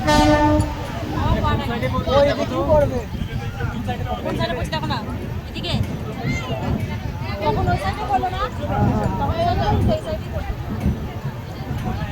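A train pulling into Digha railway station, with rumbling wheels and carriage noise, a horn toot near the start and a busy hubbub of passengers talking throughout, heard from on board.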